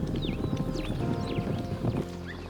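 Wild horses gallop across open land, a busy rumble of hoofbeats with whinnies and scattered bird calls above, loud and close, easing slightly near the end.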